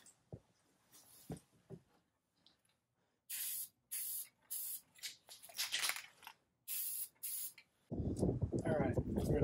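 Thin coat of black spray paint going onto a truck canopy part: short bursts of hissing aerosol in repeated pulses, close and crisp, with brief gaps between sprays and a longer spray at the end.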